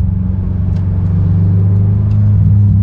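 A Honda S2000 sports car's engine drones with a deep, steady low rumble that builds slightly in loudness, heard up close and alone with no voices.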